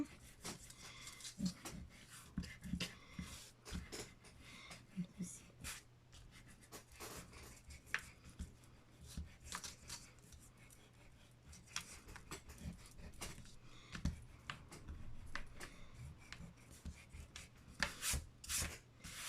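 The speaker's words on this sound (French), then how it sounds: "je vais gommer mes traits qui m'ont aidé pour les tamponnages" An eraser rubbing out pencil guide lines on paper during a moodboard craft project, with irregular close scrubbing bursts and small taps throughout, quiet and without talk.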